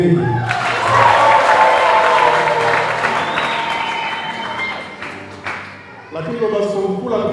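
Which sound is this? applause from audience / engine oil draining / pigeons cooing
applause from audience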